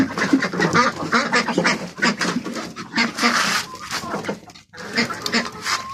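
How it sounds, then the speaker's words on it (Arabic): Domestic ducks and other household birds feed on leftover household food scraps, with busy overlapping quacks and pecking noise close by throughout, a brief lull near the end. "انا حاطه لهم الاكل بتاع الطيور بتاع البيت، بواقي الاكل"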